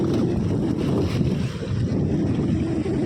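Steady rushing river water flowing strongly after sudden rain-fed flooding, a broad continuous roar with some wind buffeting on the microphone, no voices.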